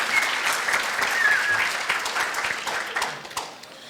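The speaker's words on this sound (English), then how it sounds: "can I get a big round of applause for Michelle Fideli?" An audience applauds at a county communications forum on racial equity in Marin County. Dense, even clapping fills the room for a few seconds with faint crowd murmur.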